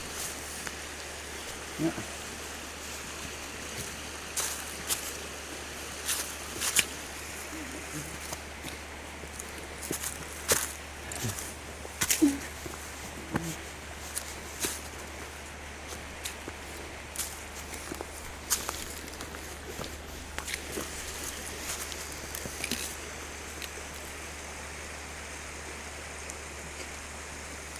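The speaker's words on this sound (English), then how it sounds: "Listen to the creek in the background." A creek runs steadily along a hiking route from Thurmond to Concho, West Virginia, its soft continuous rush sitting under close footsteps and rustling, with a brief spoken word.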